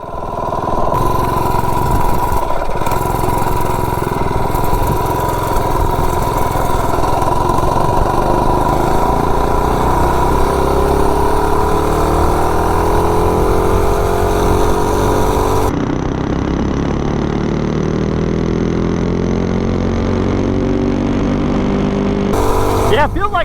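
Cammed 98cc billet mini bike engine on a top speed run: a loud, steady motor drone with pitch climbing as it pulls through the gears.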